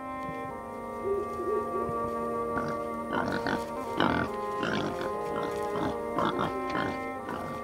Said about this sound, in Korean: 허기진 배를 채우기 위해 모여든 멧돼지 무리다.